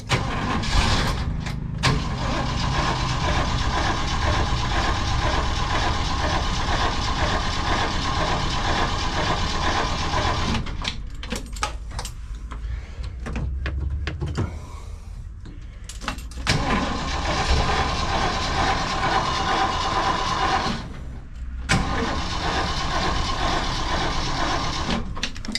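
A car's starter cranks on and on after a Motorcraft 2100 carburetor rebuild, with no fuel yet in the bowl, loud and steady up close, with brief pauses between long cranking runs.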